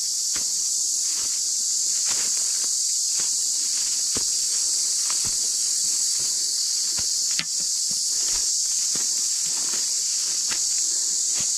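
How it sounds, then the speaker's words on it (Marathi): Crickets chirp in a steady, piercing, unbroken drone in dense forest on a hillside trail, with faint footsteps or rustles ticking through it; loud and constant, no voices. "हा घाबरवणारा रातकिड्यांचा आवाज"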